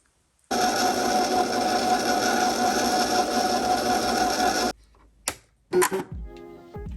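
A sewing machine stitching gray fabric for Ford Transit van window covers runs in one steady, close, rapid mechanical whir for about four seconds, then stops, followed by a few sharp handling clicks and knocks.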